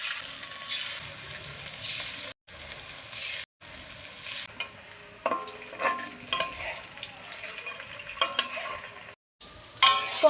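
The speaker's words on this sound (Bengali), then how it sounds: "এবার ম্যারিনেট করা চিকেনগুলো দিয়ে ভেজে নেব" Marinated chicken pakoras sizzle in hot oil over medium heat as a utensil stirs and scrapes the pan in bursts, broken by brief silent cuts.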